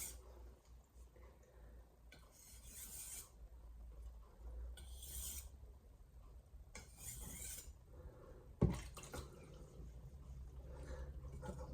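A santoku chef knife is honed on Shapton Glass whetstones of 500, 1000 and 2000 grit, giving soft repeated rasping strokes in short bursts with pauses between passes and one sharp knock near the end.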